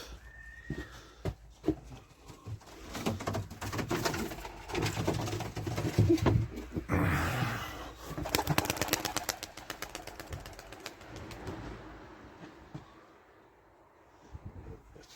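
Arabian tumbler pigeons coo repeatedly in a loft, throaty rolling calls close by with rustling and fluttering in between, no talk.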